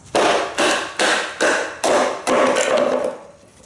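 Wood being batoned with a high-grind Scandi bushcraft knife gives six evenly spaced sharp knocks, each a crisp close impact with a short ringing tail, in a steady rhythm.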